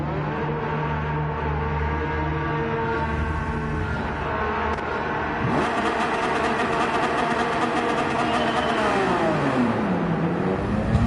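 A Porsche 911 racing in Gran Turismo 7 at Interlagos, engine droning and climbing in pitch through the gears, with a whirring, revving tone that rises, dips at a shift and climbs again, loud and without speech.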